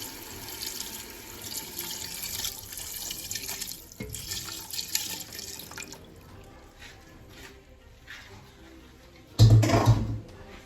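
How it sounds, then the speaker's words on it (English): Water runs from a tap and splashes into a pot for cooking oxtail, a continuous close trickle and pour with drips, ending in a louder burst of clatter. "add a little bit of water and make it cook"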